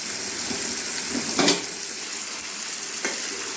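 Chicken fry being stirred in a frying pan, a steady oily sizzle throughout with a couple of brief scraping stir strokes standing out, close and moderately loud with no talking.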